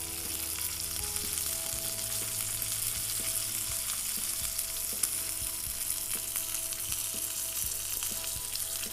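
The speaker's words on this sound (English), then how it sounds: "sear it on the side, on the fat, just to help get that fat a little bit crispy" A steak's fat side sears in a hot pan, producing a constant dense sizzle with small crackles and a low hum underneath, close and uninterrupted, with no talking.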